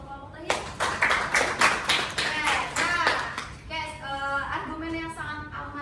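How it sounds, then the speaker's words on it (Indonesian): A classroom audience applauds the last presenting group in a micro-teaching session: a burst of dense hand clapping for about three seconds, then a voice begins talking as it fades. "Oke, kita kasih aplaus untuk kelompok terakhir."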